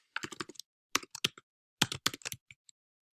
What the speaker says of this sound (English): And here we're just going to type